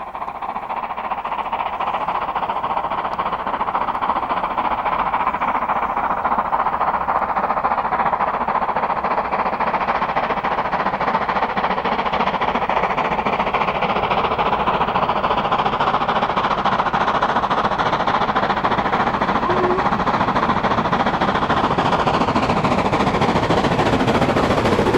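A Black Five Stanier Class 5 4-6-0 steam locomotive working hard up Hatton Bank with full boiler pressure and 35% cut-off: a loud, steady roar of rapid exhaust beats, continuous and close for the whole stretch.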